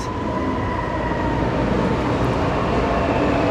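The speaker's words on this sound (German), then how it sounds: "Und hier vorne kommt noch ein Zug gerade." A train rumbles past close by in Siegburg, a dense continuous roar of wheels and track noise that stays loud for the whole stretch.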